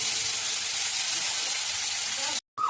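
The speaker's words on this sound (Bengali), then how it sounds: "করা আছে রসুনের পেস্ট তেলের উপরে দিয়ে দিলাম, হালকা লাল বাদ করে নেবো" Garlic paste hits hot oil in a pan with dried chilies and cumin, giving a loud, steady, dense sizzle that cuts off abruptly near the end.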